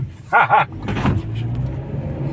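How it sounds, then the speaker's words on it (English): A manual Hyundai Grand i10 hatchback drives under full throttle after a gear shift. Its engine drone and road noise fill the cabin steadily, and a brief voice is heard near the start. "I'm gonna shift and floor it again"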